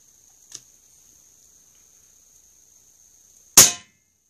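A .22 caliber Benjamin Discovery air rifle fires once, a sharp loud crack near the end after a faint tick, against a thin steady high whine in an otherwise quiet setting.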